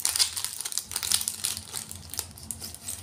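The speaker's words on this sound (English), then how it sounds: "Sorry about the crinkling" Plastic packaging crinkles and rustles in short, close, irregular bursts while nail art is unboxed, with sharp crackles scattered across the moment.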